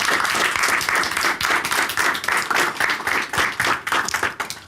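Studio audience applause at an Estonian sports talk show, steady dense clapping from a large crowd, loud and close, continuing throughout without a break.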